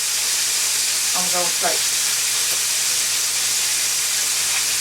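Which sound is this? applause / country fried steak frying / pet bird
country fried steak frying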